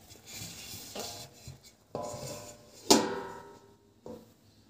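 A lid goes onto a pot of carrot halwa on the stove, giving a few quiet metallic clatters and knocks spaced about a second apart, with no talking.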